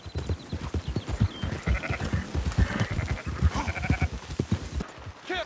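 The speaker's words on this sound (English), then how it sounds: "Fine sheep." Sheep bleat repeatedly in Red Dead Redemption 2, overlapping calls from a nearby flock over a busy, continuous stretch, with light hoof clatter underneath.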